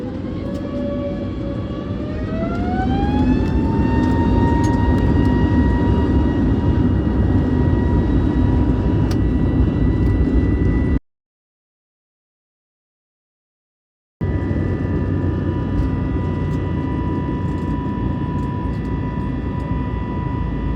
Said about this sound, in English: Taking off out of Istanbul, we begin our 4-hour flight over to the UAE.